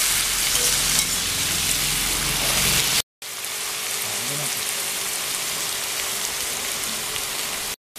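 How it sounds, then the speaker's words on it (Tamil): Onion, carrot, beans and peas sautéing in a pan for vegetable noodles, a loud, steady sizzle that cuts out briefly before the frying resumes with stirring. "அதில் நம்ம கேரட், பீன்ஸ், அதே மாதிரி பட்டாணி இதெல்லாம் சேர்த்துருக்குறோம். இனி இது நல்லா கொஞ்ச நேரம் வதங்கட்டும்."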